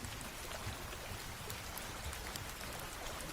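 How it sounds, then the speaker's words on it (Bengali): Heavy rain pours down on a rainy night at a deserted riverside landing, a steady, dense patter that stays even and fairly quiet throughout, with no voices. "মাথার ওপর অঝোর বৃষ্টি"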